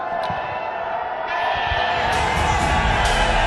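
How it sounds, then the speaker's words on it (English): A large crowd of Peshawar Zalmi fans at a cricket stadium cheering, a continuous roaring din with rising whoops, broad and loud. "all the Zalmi fans over here love you. They've been cheering for you"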